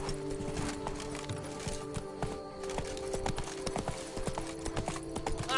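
Roach, Geralt's horse in the video game The Witcher 3, runs with a steady, rapid clip-clop of hooves, close and fairly quiet, carried over a low sustained music bed with faint ambient sound.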